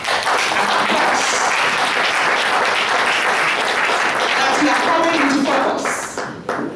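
Engineers in an audience at a Nigerian ministerial visit to a research institute break into sustained, dense applause that stays loud and steady for several seconds before tapering off at the end.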